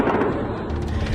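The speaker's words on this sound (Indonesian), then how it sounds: "Rentetan tembakan pun diluncurkan Zionis Israel ke permukiman warga." Loud, dense gunfire rattles on without a break, with a heavy low rumble underneath the sharp reports, during an Israeli attack on a residential area in southern Lebanon.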